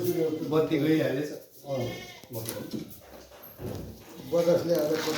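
A goat bleats in wavering cries at the start and again at the end, interleaved with people talking close by.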